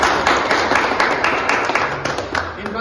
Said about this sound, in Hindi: एक बार जोरदार तालियां बजाकर इनका